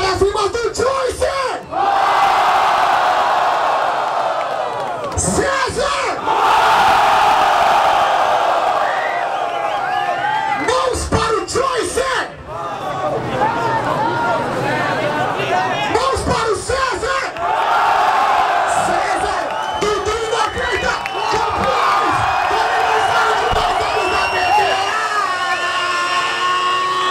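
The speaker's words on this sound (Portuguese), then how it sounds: "Então vamos gritar com muita força pra um trio só." A loud crowd at a rap battle grand final roars, shouts and cheers in long sustained waves, broken by a few brief drops in volume, with an amplified voice intermittently rising above the noise.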